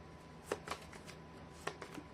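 Tarot cards being shuffled and drawn during a reading, with soft papery riffles and flicks in two short bursts, close and quiet with no talking.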